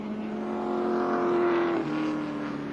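Touring race cars from the 1983 ATCC round at Adelaide International Raceway roar past: a loud, sustained engine drone whose pitch drops as the cars pass, with no voices.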